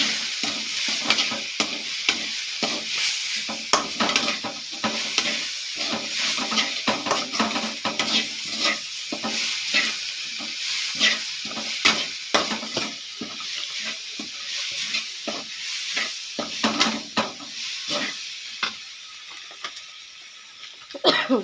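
Chicken masala sautés in a pan, with a constant sizzle and frequent scraping stir strokes of a spoon against the metal, close and fairly quiet, plus an occasional cough.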